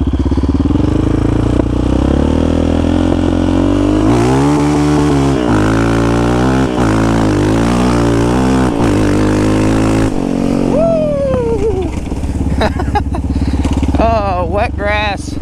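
A Yamaha Raptor 700 ATV launches in first gear from a dead stop on wet grass with stock tires. Its engine roars loudly and close, rising and falling in repeated revving sweeps throughout.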